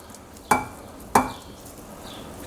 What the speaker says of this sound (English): Time to plate this rice right now.